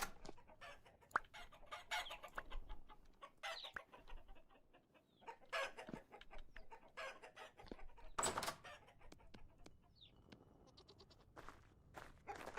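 Chickens and other farm animals in the survival game Vintage Story cluck and bleat repeatedly at close range, a busy scattered chorus of short calls with sharp peaks throughout, with no talking.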